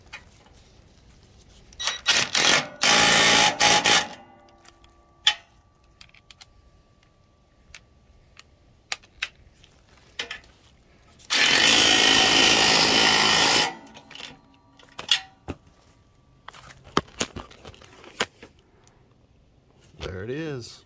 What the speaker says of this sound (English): And take your impact with the 14 millimeter socket.